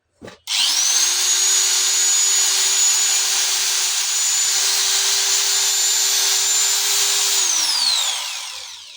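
An electric grinding machine from a shop in Nawabpur, Dhaka starts with a click, then runs with a steady, smooth high whine and no rattling, loud and close, before winding down at the end.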